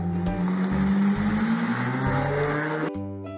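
A car engine revs loudly up close, pitch rising and shifting with gear changes and a hint of tire squeal, steady and dominant until it cuts off into a quieter idle near the end.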